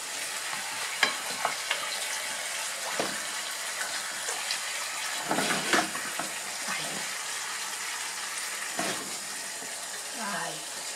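Water poured into a pan of Cuban-style pig trotters frying in sauce, giving a loud sizzling hiss with scattered clatter from stirring and utensils, and voices talking in the background.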